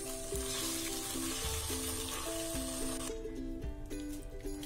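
Chicken 65 gravy thickened with cornflour paste simmering in a pan, a steady close sizzle and bubble with tonal hum, continuous throughout with no talk.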